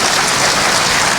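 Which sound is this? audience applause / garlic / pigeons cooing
audience applause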